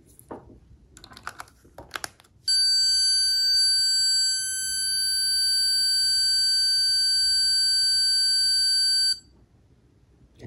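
An Insteon plug-in module emits a steady, loud, high-pitched electronic beep lasting several seconds while being reset, preceded by a few faint clicks and handling noises.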